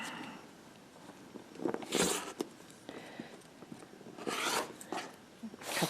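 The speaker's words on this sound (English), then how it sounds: "So I'm going to cut the rest of the red into 4 2-inch squares." Red quilting fabric is cut into 2-inch squares, with scraping, sliding rasps of a cutter and ruler against the cutting mat coming in a few distinct strokes between quieter handling noises, close and fairly soft.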